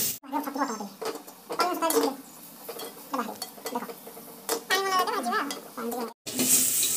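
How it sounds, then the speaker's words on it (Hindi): Mushrooms sprinkled with turmeric fry in a clay pot, a steady close sizzle broken by scraping stirs and clinks of a utensil against the pot, with a brief break near the end. "वो मशरूम में थोड़ा हल्दी छिड़क के उसको अभी मिट्टी की हांडी में फ्राई करेंगे"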